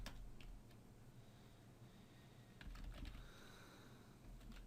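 A command being typed on a computer keyboard during a file-permissions demonstration, heard as a faint, sparse run of quick key taps with short pauses between them.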